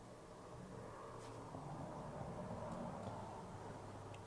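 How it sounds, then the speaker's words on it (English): Road traffic passing at night as a faint, continuous distant rumble and wash of tire noise, swelling gently midway, with no voices. "The traffic is just really annoying."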